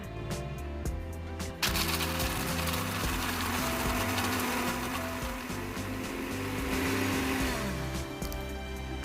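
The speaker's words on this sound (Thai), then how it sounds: "จะปั่นของแข็งก่อนค่ะ" A kitchen blender grinds roasted salted cashew nuts, starting with a loud surge and then running as a steady, dense, gritty whir close by for several seconds, with no talking.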